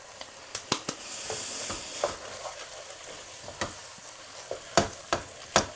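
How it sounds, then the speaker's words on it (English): Lasagne mince with sauce and crushed OXO cubes is stirred in a pan. Spoon scrapes and wet squelches come in irregular bursts over a low sizzle, close up with no speech. "Give the Wash Your Sister sauce and the OXO cubes a mix in."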